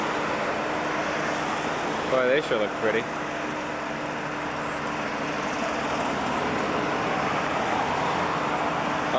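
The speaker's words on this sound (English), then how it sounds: "Unbelievable how many cars there are around here nowadays." Car traffic on Mass Ave in Lexington hums steadily as vehicles pass nearby, a continuous roadway rumble that persists beneath someone briefly speaking.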